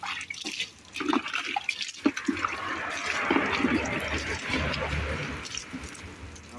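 Water runs and splashes steadily during a rinse, washing soap off a cat in a garage, a continuous close gush with a few drips and brief soft speech underneath.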